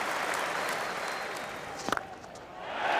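Spectators at a 2005 Ashes Test cricket match cheer and applaud as a shot races away to the boundary, a broad, steady roar of crowd noise with a brief sharper burst in the middle before it swells again toward the end.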